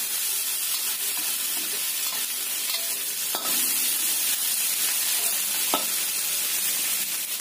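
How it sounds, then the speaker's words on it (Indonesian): Dried anchovies (teri) fry in a pan with a steady, continuous sizzle, broken by a few sharp pops and occasional stirring scrapes. It stays close and fairly loud, with no voices. "Kita goreng sampai terinya ini agak kering sedikit ya."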